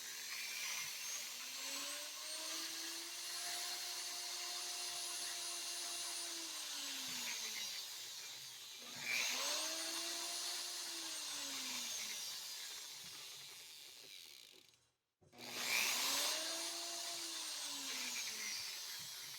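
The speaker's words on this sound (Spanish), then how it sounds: "pongamos atención a la respuesta del taladro" An electric drill motor run through a homemade dimmer whines and rises in pitch as it speeds up to maximum, runs at a steady high speed, then winds down; this repeats three times.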